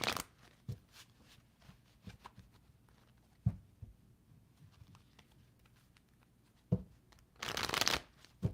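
Tarot cards are shuffled close by in a quiet room, scattered soft slaps and riffles spread across the stretch, ending in a louder, longer riffling burst near the end, all faint and without talk.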